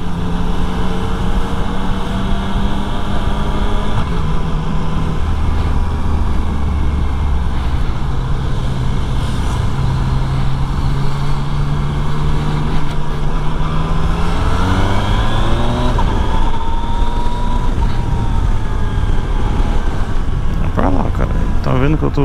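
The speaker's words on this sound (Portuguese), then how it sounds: "O barulhinho da moto andando na moralzinha também é da hora" Yamaha Tracer 900 GT motorcycle riding along a road, a steady engine drone with rising and falling gear pitch under constant wind rush, while a rider talks over it.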